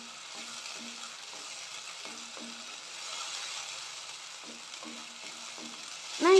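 Ground masala frying for dahi chicken makes a soft, steady sizzle broken by regular scraping strokes as it is stirred, ending with a sudden sharp squeak; no talking.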